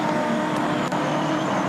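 V8 ute race cars at Sandown in Australia, engines roaring continuously as the pack races, loud, dense and close, with a brief dip and a passing surge partway through and no talk.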